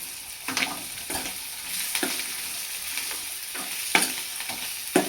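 Drumsticks (shevga) being stirred in hot oil with coriander and curry leaves for a spicy Maharashtrian bhaji, a steady close sizzle broken by several sharp scraping stirs spaced about a second apart.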